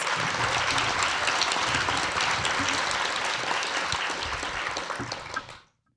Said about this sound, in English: So can we just give Issa another round of applause?